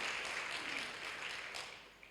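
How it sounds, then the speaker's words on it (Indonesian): A church congregation applauds at a Thursday service, a steady wash of clapping from many hands that holds level and then slowly fades, with no talking. "Tepuk tangan lagi bagi Yesus Tuhan kita."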